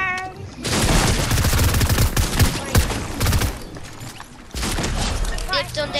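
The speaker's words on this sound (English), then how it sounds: "they're shooting over here" Rapid bursts of gunfire in the battle royale shooter Fortnite, dense volleys of shots close by for most of the stretch, with players talking over the shooting.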